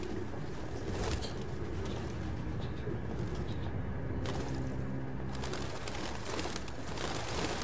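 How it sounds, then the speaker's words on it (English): Pigeons coo steadily through a dense ambient game soundscape in Detroit: Become Human, the soft repeated calls sitting among continuous background noise with no talking. "No human could live with all these fucking pigeons."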